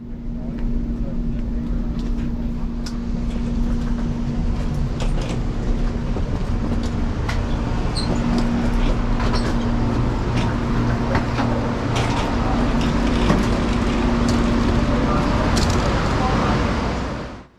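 Amtrak Acela train at New York Penn Station, a steady, continuous rumble and hum with a constant tone and occasional clanks and clicks, while a voice makes an announcement over it.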